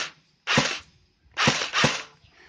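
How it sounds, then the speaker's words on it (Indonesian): Single shots from a Dboys Scar-L MK18 Mod 0 airsoft electric rifle, three separate sharp bursty pops, near and fairly loud, with gaps between them and no talk. "Langsung tes tembak aja, mulai dari single, akurasi bagus"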